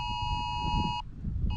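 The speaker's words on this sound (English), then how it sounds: "Our phones are going off saying that we're in a tornado warning right now." Mobile phones sounding tornado warning alerts: loud, harmonic electronic tones in a repeating pattern, cutting off briefly and then starting again.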